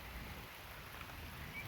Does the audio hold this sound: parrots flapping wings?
no